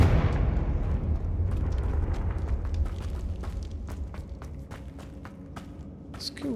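A Confringo blasting spell going off in Hogwarts Legacy: a deep, rumbling blast at the start that slowly fades, followed by light footstep-like taps and a small crackle near the end.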